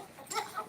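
A chicken on the loose gives a couple of short, faint clucks in quick succession, with no speech over them.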